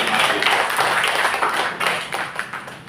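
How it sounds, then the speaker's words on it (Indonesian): A church congregation clapping together, loud and close, a dense burst of hand claps that swells and eases over a few seconds. "Mari kita tepuk tangan untuk jemaat."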